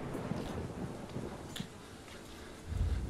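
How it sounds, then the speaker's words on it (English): Thunder in the video game Cycle rolls through as a dense, hissing rumble over steady rain and wind, swelling into a heavier low boom near the end, with no voices. "the thunder is way too loud, boys."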